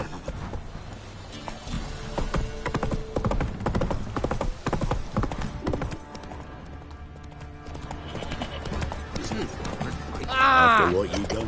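Roach the horse galloping in The Witcher, a quick rolling rhythm of hoofbeats mixed with game dialogue and people talking, rising to a louder burst with a neigh near the end.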